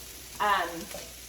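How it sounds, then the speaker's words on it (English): Ground beef sizzling in a pan with rice for a spicy Spanish rice dish, a soft steady frying hiss with a brief louder stir or scrape near the microphone. "so your ground beef will be cooking"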